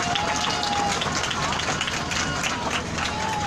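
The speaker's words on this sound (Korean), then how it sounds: "우리 박수로, 뜨거운 박수로 네," Crowd applause welcoming an elderly Catholic nun at an outdoor Wednesday demonstration in Seoul, continuous clapping mixed with crowd murmur throughout.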